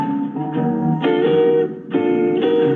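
Mellow vibraphone notes ring out in a 1939 jazz passage at Carnegie Hall, sustained tones shifting between chords with a warm, shimmering decay and no voices.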